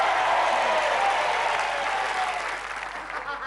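Studio audience applauding on the Indonesian TV game show Famili 100, a steady dense burst of clapping that stays loud throughout and tapers only slightly near the end, with no talk over it.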